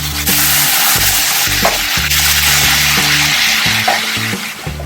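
Cooked ridge gourd sizzles as it goes into a tempering of mustard seeds, urad dal and curry leaves, a loud continuous hiss and crackle with low background music underneath.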